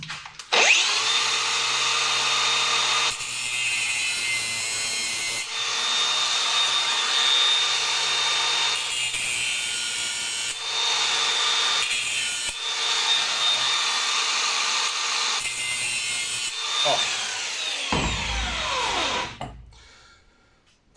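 A power tool cuts a notch in a small part for a homemade hose clamp, whining loudly in several long bursts with brief pauses between, then spinning down to stop near the end.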